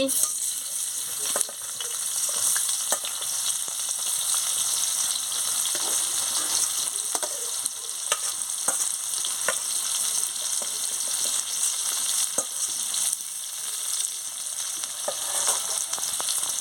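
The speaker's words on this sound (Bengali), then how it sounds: "পেঁয়াজটাকে ভালো করে ভেজে নিচ্ছি" Chopped onions fry in hot oil, a loud continuous sizzle with scattered crackles and occasional stirring clinks against the pan, lasting throughout.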